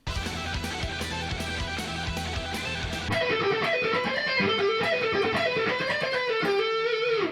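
Distorted electric guitar plays a lead line with a second guitar's harmonies layered over it, starting choppy and then sustaining into fuller melodic phrases.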